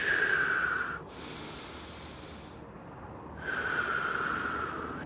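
Deep, slow breaths drawn in and pushed out during a hip flexor stretch, two long airy hisses close to the microphone separated by a quiet pause, with no talking.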